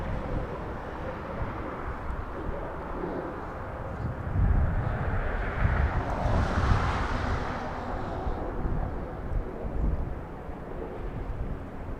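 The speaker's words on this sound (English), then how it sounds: "Heavy arrival coming in." A heavy jet airliner, a Dreamliner 787 arriving at Los Angeles International Airport, rumbles from a distance, its low roar swelling in the middle and then easing back, under steady wind buffeting on the microphone.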